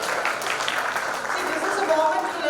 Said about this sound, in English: Students, you need to be clapping.